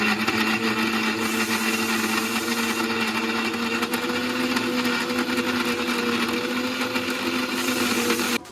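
An electric mixer grinder runs steadily, grinding a green chicken kebab mixture of minced chicken and spice paste with a loud, continuous motor whine that stops abruptly at the end.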